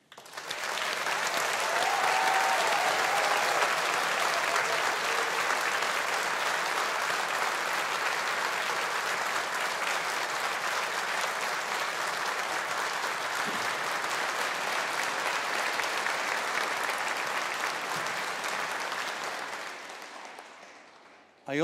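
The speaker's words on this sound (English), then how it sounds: "let us show appreciation with a collective round of applause for our alumni" Sustained applause from a graduation ceremony audience honoring alumni at a humanities faculty celebration, a dense steady wash of many clapping hands that holds for about twenty seconds before tapering off.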